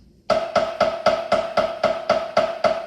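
A drum is struck about ten times with Promark 5A jazz drumsticks in an even, quick rhythm, each hit sharp and ringing with a clear pitched tone, close and alone.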